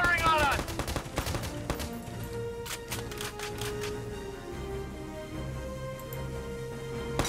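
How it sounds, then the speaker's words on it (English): Enemy gunfire in Valkyria Chronicles 4, with a cluster of sharp shots early on, then scattered rattling bursts over a low tonal game score. "They're firing on us!"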